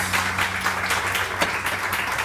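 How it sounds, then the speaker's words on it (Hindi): Studio audience applause on a Pakistani morning TV show, a sustained burst of clapping from a crowd that holds at an even, fairly loud level throughout. "बहुत सारी तालियां इनके लिए।"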